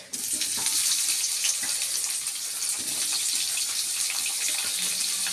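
Large-cut onions dropped into hot oil with black cumin seeds, a loud, dense, steady sizzle and hiss that runs throughout without a break.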